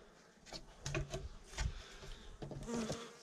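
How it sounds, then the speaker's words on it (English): Honeybees buzz inside a beehive, with irregular close buzzing bursts and light knocks from the hive box, fairly faint overall. "I am hearing buzzing."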